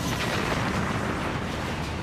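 A 307-ton runaway train smashes into a commuter train standing at a Paris station platform, producing a loud, dense crashing roar that fills the whole two seconds without letup and with no voices.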